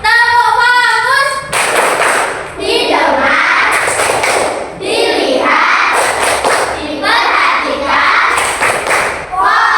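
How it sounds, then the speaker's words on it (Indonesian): A classroom of children performs a rhythmic 'focus clap' together, loud bursts of unison clapping in repeated patterns after a teacher's opening call, with voices chanting between the claps. "Kita tepuk fokus dulu ya. Tepuk fokus."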